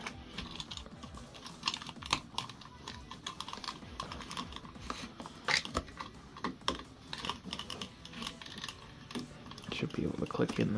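Plastic armor chest piece being fitted onto a Marvel Legends Hulkbuster action figure, heard close up as a string of small sharp clicks and light handling rattles at an uneven rhythm.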